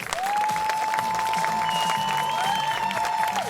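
A concert audience breaks into loud, sustained applause after the show. A long whistle and scattered cheers ring out over the dense clapping.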